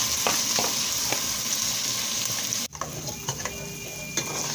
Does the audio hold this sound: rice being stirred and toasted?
yes